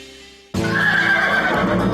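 A horse neighs loudly and close, a sustained whinny that starts abruptly and wavers for over a second, with a faint steady hum before it; nobody speaks.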